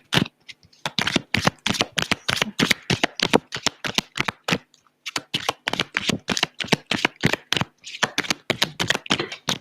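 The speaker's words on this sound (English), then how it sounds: "Everything falls on the ground when I shuffle it." A deck of reading cards is shuffled by hand, producing rapid bursts of crisp riffling and flapping clicks in repeated rounds with brief pauses, close and fairly loud.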